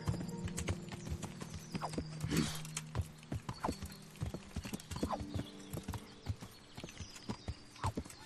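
Rhythmic clip-clop of horse hooves trotting in the video game Kingdom Come: Deliverance, with a brief whinny near the start; clear and fairly close, no talking.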